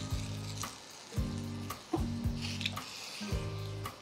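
Bhakri flatbread roasting on a tawa heated on high flame, giving a steady close sizzle with a few soft scrapes and taps as it is handled, no voices.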